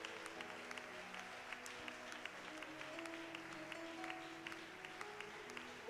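A church congregation applauding Jesus, a dense continuous clapping that fills the room steadily, with a low murmur of crowd voices and sustained tones underneath.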